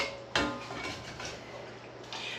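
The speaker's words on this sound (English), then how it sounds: "I'm going to serve it with my serving spoon that I just got, and we'll just put it on this like that." A serving spoon scrapes and clatters against a plate while moo shoo pork cooked in a hand-made Chinese wok is dished up, one sharp clink followed by softer scraping and a second knock, close by.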